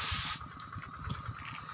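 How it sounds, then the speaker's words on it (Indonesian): A burst of liquid fertilizer (POC NASA) sprayed from a sprayer onto red ginger leaves, a loud close hiss for the first moment, then stopping, leaving low rustling and faint background noise. "Jadi kita semprotkan secara merata ke bagian daun ya."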